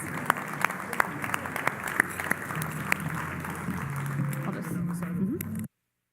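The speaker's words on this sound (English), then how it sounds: "Let's give them another round of applause." Enthusiastic applause from a crowd claps steadily for several seconds, with a few voices underneath, then cuts off abruptly.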